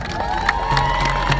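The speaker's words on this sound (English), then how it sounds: "clap your hands." A crowd at a fall festival ceremony cheers and shouts, with children's voices and whoops rising over a steady mass of noise for a brief burst, fairly close and loud.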